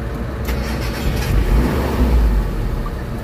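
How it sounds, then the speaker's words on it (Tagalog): A Mitsubishi Adventure engine with a throttle delay and low power problem cranks and starts up close, then settles into a swelling low rumble and a short rise in engine note. "Start natin engine."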